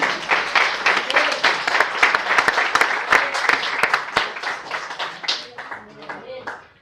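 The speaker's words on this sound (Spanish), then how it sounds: "Dale un aplauso, amén, amén." A church congregation bursts into dense applause during a Spanish-language Easter sermon, steady clapping filling the room for several seconds before thinning out toward the end.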